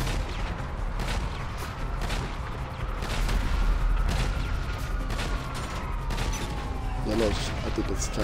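Continuous gunfire inside a hangar in GTA Online, dense rattling bursts over a steady engine-like drone, loud and sustained with people talking over it.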